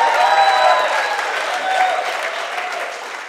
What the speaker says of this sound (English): I think you better applaud one more time